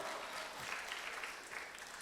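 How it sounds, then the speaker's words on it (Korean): Applause from worshippers at an early-morning church prayer service, a steady wash of many hands clapping, heard faintly and from a distance, without pauses. "예, 맞습니다. 박수."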